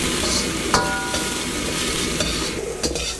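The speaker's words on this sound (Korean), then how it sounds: "불 조절을 잘 해가시면서 타지 않게 잘 볶아줍니다." Chili flakes stir-fry in a wok with a dash of stock water, a loud, close, continuous sizzle with a few sharp spatula clinks against the metal.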